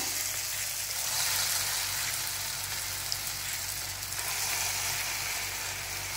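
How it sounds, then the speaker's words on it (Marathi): Chana dal bhaji frying in hot oil in a kadai give off a steady, dense sizzle with a crackling hiss that holds unbroken throughout, fairly close and with no voices. "आता मी ते गॅसवर कढई ठेवलेली आहे, तेल ऑलरेडी गरम झालेलं आहे। आता आपण याच्यामध्ये भजी सोडूया।"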